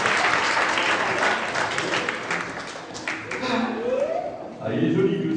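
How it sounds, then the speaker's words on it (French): Applause from a group gathered around a campfire, dense and steady clapping for a few seconds with voices talking and calling out over it, fading slightly midway before swelling again. "Allez, on l'applaudit"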